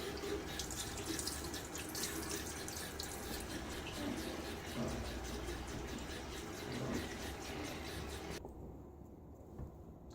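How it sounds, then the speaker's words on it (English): Water runs steadily from a tap to rinse the side of a shaving soap can, a continuous close splashing flow that thins slightly at the end. "I'm going to rinse off the side of the can."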